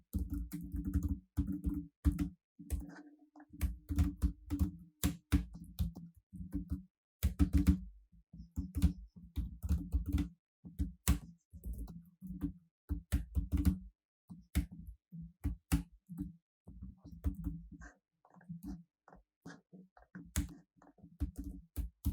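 Rapid, uneven keyboard typing during code writing, a steady run of close, crisp key clicks in bursts with short pauses, alone without voices.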